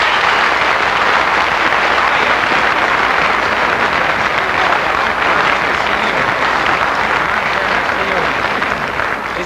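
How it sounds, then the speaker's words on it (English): Loud, sustained studio audience applause from a 1949 live television variety show, a dense wash of clapping that fills the whole stretch at a steady level with no break. "let's have some applause if they're going to come up for you"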